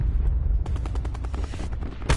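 Rapid bursts of automatic gunfire in a Black Ops video game match, a dense string of shots crackling over a low rumbling backdrop, with a final louder blast at the end.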